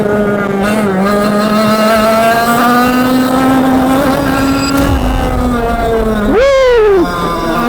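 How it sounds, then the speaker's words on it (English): A high-revving small go-kart engine drones loudly and continuously during a race, its pitch rising and falling as it accelerates, then sweeps sharply up and down near the end. "this engine is phenomenal"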